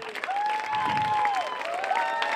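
An audience at a village clown festival in Falerna applauds, with a continuous crowd of hands clapping throughout and a voice calling out over the top.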